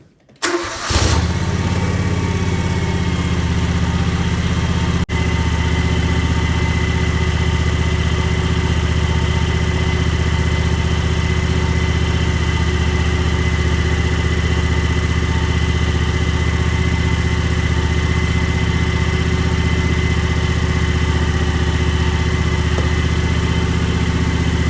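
A John Deere X724 lawn tractor engine cranks and catches, then settles into a steady, loud, close idle that runs on evenly with no talking.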